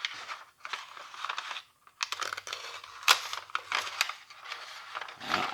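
A sharp axe blade cuts through a sheet of paper, giving a few short, crisp crunching and tearing sounds with brief pauses between them, close and fairly quiet.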